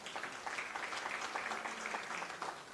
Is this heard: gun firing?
no